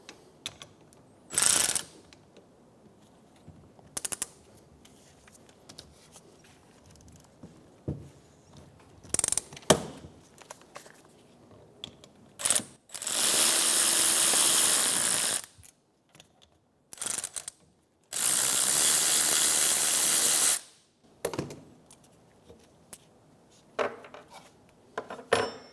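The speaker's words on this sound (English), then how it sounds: "We're going to disassemble the caliper from the caliper bracket." Ratchet taking the brake caliper off its bracket on a 2012-2016 Subaru Impreza, with scattered clicks and clunks and two loud bursts of rapid ratcheting lasting a couple of seconds each, close and with no talk.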